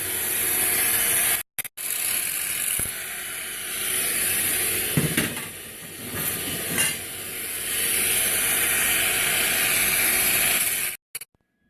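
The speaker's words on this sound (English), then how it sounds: "So let's shift our focus back to these now and do the same thing, clean up some of these welds." Welds on metal bar chairs are cleaned up with a steady, harsh abrasive grinding that runs almost continuously at close range, broken by short pauses near the start and the end.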